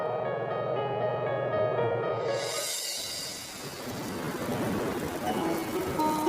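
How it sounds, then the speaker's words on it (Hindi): Rain starts falling partway through, a dense, steady hiss that replaces a softer tonal background and continues evenly at moderate loudness to the end. "और बारिश शुरू हो गई।"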